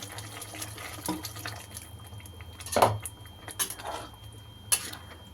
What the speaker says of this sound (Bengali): এবার এর ভিতরে পরিমাণ মতন জল দিয়ে দেবো